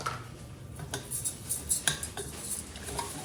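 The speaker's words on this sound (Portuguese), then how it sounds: "Mexe até o arroz ficar bem amarelinho, pegar todo o óleo, todo o tempero." Rice and red lentils stirred in oil with spices, a spoon scraping and clinking against the pot in short irregular strokes over a soft background sizzle.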